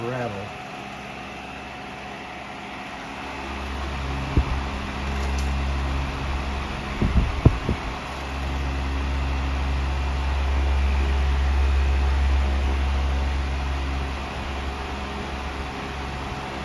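A Tozai Deluxe 16-inch oscillating fan runs with a steady low hum and airy hiss, a loose rattle clicking in through the middle; no one speaks over it.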